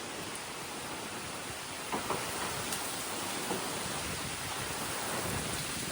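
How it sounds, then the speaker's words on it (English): An almighty thunderstorm outside near woods, steady dense rain and wind hiss with faint distant thunder rumbles, no voices. "Oh, wind and rain and thunder."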